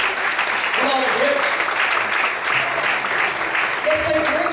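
A church congregation claps and cheers during a sermon, a broad wash of applause filling the room with voices rising through it throughout.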